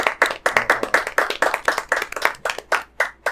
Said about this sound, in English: Let's clap it up.